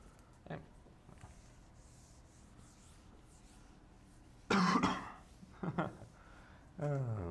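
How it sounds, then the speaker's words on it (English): A person coughing and clearing their throat during a quiet indoor math lecture, with a few sharp, close coughs in quick succession after a stretch of near silence. "Great time to be coughing."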